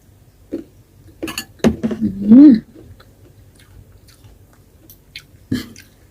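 Someone eating sator beans with chili paste and fish: a few close, moist chewing and biting sounds, one louder vocal murmur mid-chew, then quieter scattered chews in a silent room.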